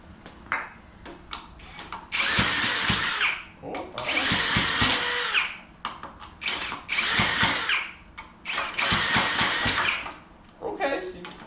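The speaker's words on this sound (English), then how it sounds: "It might be just spinning a little too slow with the drill" A power drill whirs in four bursts of about two seconds each, spinning a small minibike engine over with short pauses between, close and loud.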